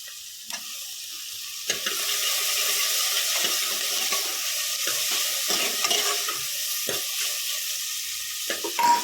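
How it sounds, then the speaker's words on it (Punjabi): Tomatoes stirred in a frying pan for a ridge gourd curry, with soft continuous sizzling broken by scraping strokes of a spoon against the pan, close and moderately quiet. "ਜਿਹੜਾ ਆਪਣਾ ਟਮਾਟਰ ਚਲਾ ਕੇ ਦੇ ਦਿੰਦੇ ਹਾਂ"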